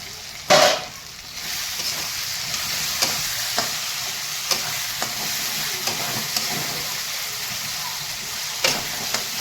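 Spices are sautéed in a pan with reserved bhetki fish oil, making a steady close sizzle punctuated by periodic spoon taps and scrapes, with one loud clatter near the start and no talking.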